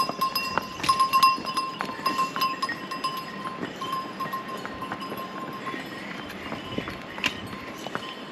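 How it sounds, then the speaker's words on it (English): Pack donkeys pass along a mountain trail in a Himalayan national park near Gokyo, with scattered hoof clops and jingling bells against a steady outdoor background. "Oh, don't trip, little donkey."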